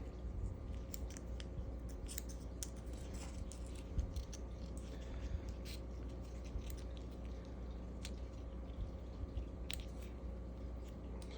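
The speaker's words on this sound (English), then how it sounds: "we're actually gonna go ahead and trim off a little bit of this side as well." Small snips of scissors trimming the shell of a ball python egg, faint and close, with scattered light clicks over a steady low hum and no talking.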